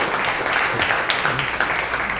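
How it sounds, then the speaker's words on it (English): Audience applause at the close of a business talk on buyer psychology and retention, a steady, moderately loud patter of clapping filling the room with no voices over it. "Another round of applause."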